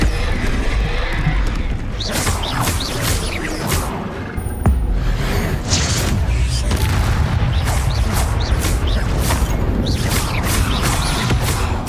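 Confringo spell blasts in Hogwarts Legacy combat, a dense run of loud booming impacts and crashes with whooshing spell effects, layered over continuous battle noise with no pause.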